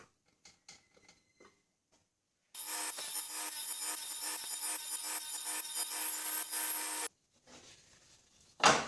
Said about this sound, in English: I can just lift the blade up and recut.